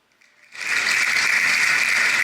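A digital spinner wheel on a tablet or phone spins after a tap, giving a dense, steady ratcheting clatter that starts abruptly and keeps going at an even level.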